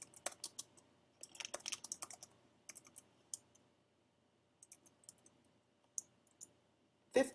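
Quick, light keystrokes on a computer keyboard come in short irregular bursts separated by pauses, close and fairly quiet, ending with a louder click or knock.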